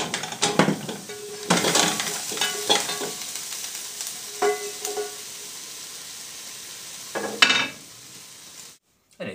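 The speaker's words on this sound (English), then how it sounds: "So, into the main pan goes our beef." Beef dropped into a hot pan sizzles and crackles in bursts, with stirring scrapes and clinks of utensils against the pan, close and fairly loud.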